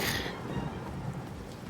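A thunder-and-rain effect plays out as a sharp crack fades into a continuous rumbling downpour, moderately loud with no voices.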